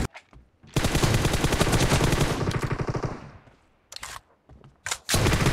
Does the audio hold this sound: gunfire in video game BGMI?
yes